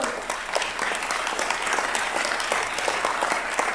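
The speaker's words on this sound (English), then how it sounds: "Let's give a round of applause." Steady, crisp applause from an audience at a nonprofit sector event, a continuous patter of many hands clapping at even loudness.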